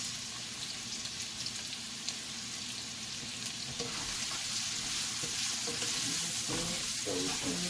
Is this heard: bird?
no